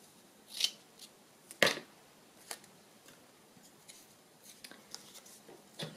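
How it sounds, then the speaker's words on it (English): Scissors snip through packaging and junk mail being trimmed roughly to size for handmade Christmas ephemera, with a few sharp close cuts among scattered quieter rustles and ticks, no talking. "I cut it to size, or more or less to size"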